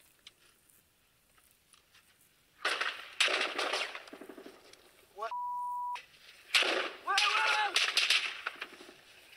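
Bursts of gunfire strike during an attack on a fleeing car, sharp cracking volleys in two loud clusters, separated by a steady electronic beep tone, with a quiet lead-in.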